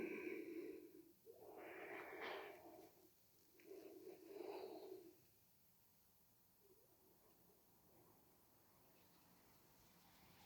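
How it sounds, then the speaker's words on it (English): Slow, soft breaths in and out through the nose during a gentle beginners yoga session, a few faint close exhalations spaced apart and then quiet. "Keep breathing in and out through the nose if you can."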